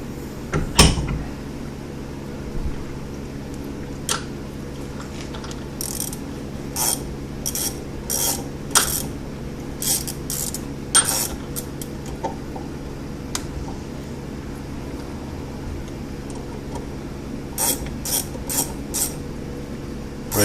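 A bent bolt being threaded down by hand gives off sparse, quiet metallic clicks and ratcheting scrapes in short irregular bursts over a low steady hum, with no talking.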